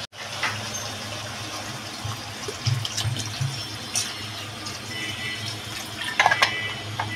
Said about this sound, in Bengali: আমি এবার ঝোল দিয়ে দেবো।